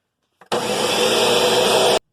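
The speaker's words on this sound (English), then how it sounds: "We are going to be blending it in the blender for 20 to 30 seconds." A blender runs for about one and a half seconds, whirring loud and steady as it blends lemon juice and egg for eggs Benedict sauce, starting and stopping abruptly with no talking.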